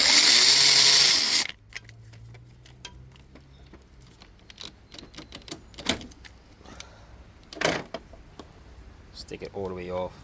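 A power tool whirs loudly for about a second while a bolt comes out during an alternator change on a 2006-2008 Hyundai Azera V6 3.3L, followed by metallic clinks and handling noises with a person talking.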